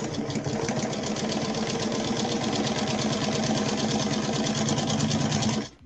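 A sewing machine stitches fabric for making cloth tulips, running at a fast, steady whirring rhythm close by for several seconds before stopping abruptly at the end.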